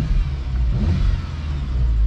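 A tuned Audi S3 engine revs up loudly and steadily close by, a deep throaty roar with no voices.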